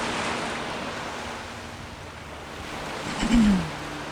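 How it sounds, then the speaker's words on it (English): Ocean waves in the Skyrim video game wash steadily in a broad surf hiss with wind, while a low tonal sound rises briefly near the end. "I love the water, the wave sound effect is just really relaxing."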